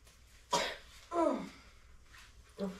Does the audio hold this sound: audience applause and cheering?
no